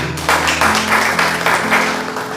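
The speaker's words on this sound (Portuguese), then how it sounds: "Dê uma salva de palmas bem forte para mim." A church congregation claps in loud, rhythmic surges that pulse roughly three times a second over steady sustained musical tones, with no clear speech.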